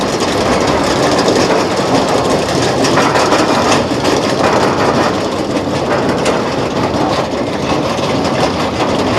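An Arrow Dynamics 4D roller coaster at Six Flags Magic Mountain runs along its track with a loud, constant rumble and clatter heard up close from a rider's seat, with no speech over it.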